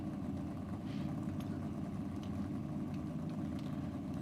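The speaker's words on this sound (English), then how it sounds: "I think I can hear the other Smith car down below us." The Smith drag racing car idles or runs below the commentary box at Sydney Dragway: a faint, distant engine drone, steady and continuous throughout.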